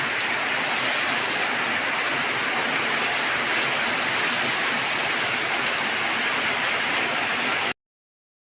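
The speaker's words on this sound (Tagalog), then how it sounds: "bumawi naman ulan na malakas oh" Heavy rain after an earthquake pours down in a dense, steady hiss with no letup, loud and close, then cuts off abruptly near the end.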